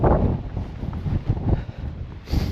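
Heavy wind on Arthur's Seat, Edinburgh, pounds the microphone with a dense low rumble that surges at the start and again near the end.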